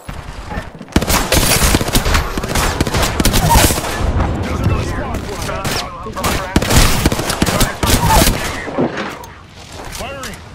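Heavy video game gunfire, loud bursts and rapid shots that stay close and near-continuous for about ten seconds, with brief lulls and a voice talking in between.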